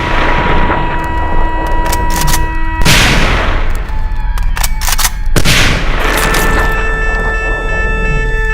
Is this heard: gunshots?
yes